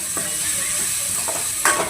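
Gentle stirring in a frying pan as boiled vegetables are tipped into sautéed tomatoes for a village-style curry, a steady sizzle with a few soft scrapes of the spoon, close up.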